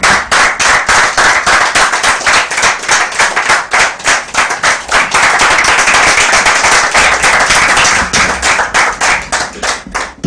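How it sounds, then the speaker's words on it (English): A round of applause from an audience welcoming a speaker to the podium, loud close hand clapping with sharp individual claps standing out in a steady, uneven rhythm throughout. "Shall we welcome Mr. Bernard Mona to the podium with a round of applause?"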